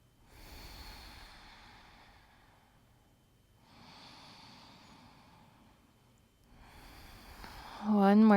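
Slow, deep breaths during a calm yoga flow in a yogi squat, three long drawn-out exhalations spaced a few seconds apart, soft and close, with a louder snort-like breath at the very end and no talking.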